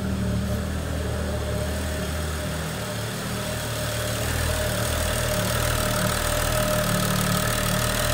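BMW E90 335i N55 engine idling steadily close by, a constant low rumble with a faint tick, slightly swelling toward the end; no talking.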